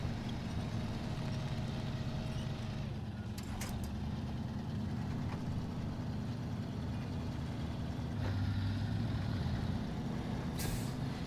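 Heavy truck on highway tires rolling onto tarmac in the snowy off-road driving game SnowRunner: a steady low engine rumble with sharp air-brake hisses around the middle and near the end, no talk.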